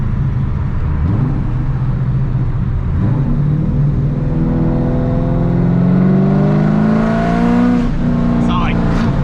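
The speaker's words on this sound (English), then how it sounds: "Let's get the RPMs up a little bit." Supercharged C5 Corvette Z06 engine, a Procharger-equipped V8 with a suspected fault, revs up steadily in a loud, close rising sweep, harmonics climbing toward a peak before easing back.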